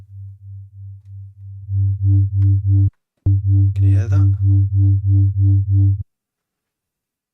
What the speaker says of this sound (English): So that's 2 sound waves phasing with each other.